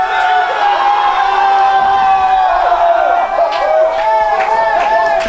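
A college baseball crowd, St. Mary's University against Houston–Victoria, roars with sustained cheering and shouting, loud and continuous, with higher whoops rising toward the end.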